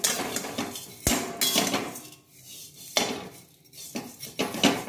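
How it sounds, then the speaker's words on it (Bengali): Vermicelli frying in a pan on a home stove, with sharp metallic clinks and scrapes of a utensil against the pan coming in irregular bursts separated by quieter gaps. "দেখো সিমইটাকে একটু ভেজে নিচ্ছি আমি"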